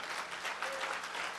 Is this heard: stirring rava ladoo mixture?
no